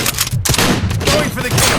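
Rapid bursts of gunfire in the RoboCop: Rogue City video game, loud and close with dense overlapping shots and thumps throughout, under intermittent game voice chatter.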